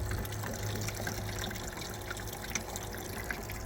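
Muddy, dirty water pours steadily into the second level of a backyard fountain, a continuous close trickling and splashing flow with no talking.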